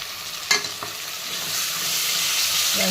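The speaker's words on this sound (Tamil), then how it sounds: "தக்காளி போட்டு நல்லா வதங்கணும்" Tomatoes and onion sautéing in a pan, a continuous close sizzle with a couple of sharp stirring knocks near the start, no voices.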